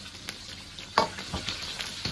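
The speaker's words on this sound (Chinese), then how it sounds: "这个时候呢把葱姜蒜下锅 开始煸炒" Scallion, ginger and garlic hit a hot wok with Sichuan peppercorn and star anise, giving a close, steady sizzle with a few sharp stirring scrapes.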